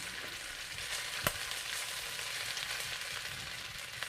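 Onion rings sizzling in a pan for a homemade cheese steak, a soft steady frying hiss with one sharp tap of a utensil, no talking.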